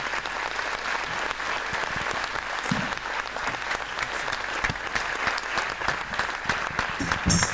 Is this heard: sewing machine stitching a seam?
no